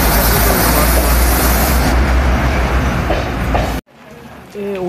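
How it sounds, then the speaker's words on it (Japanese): A train arriving at a station in Taiwan rumbles loudly and steadily close by for several seconds, then cuts off abruptly, leaving a quieter background. "またね電車が来ました。"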